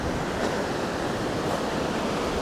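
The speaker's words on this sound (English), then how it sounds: "So the waterfall," A waterfall near Mount Hope, West Virginia roars as a dense, steady wash of falling water, close and loud, with no voices.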